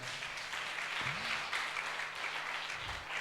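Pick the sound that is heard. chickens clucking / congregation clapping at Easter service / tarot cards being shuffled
congregation clapping at Easter service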